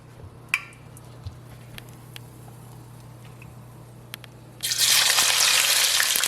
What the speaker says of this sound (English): I'm just going to put my garlic first into the oil.